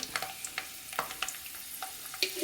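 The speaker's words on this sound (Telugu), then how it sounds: "ఈ ఎల్లిపాయ పోపు అయితే మంచిగా వేగిపోయింది" Garlic cloves, mustard seeds and lentils fry in oil as a tempering for a ridge gourd curry, with irregular crisp pops and crackles over a soft steady sizzle, heard close and without speech.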